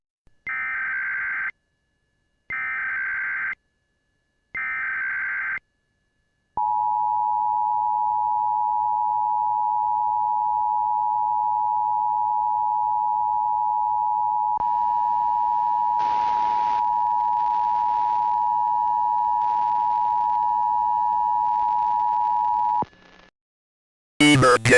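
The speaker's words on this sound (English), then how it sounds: "Sound the alarm here. Everyone, listen to EAS alarm now." An Emergency Alert System alarm sounds loudly, opening with three short burst tones, then a long steady sustained tone joined midway by warbling higher tones, before cutting off abruptly.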